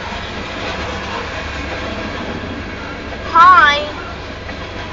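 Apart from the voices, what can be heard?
Union Pacific grain train passing on railroad tracks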